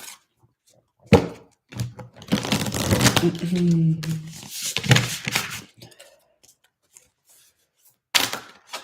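Tarot cards being shuffled by hand in bursts of riffling and slapping, close up, alternating with someone talking and brief pauses.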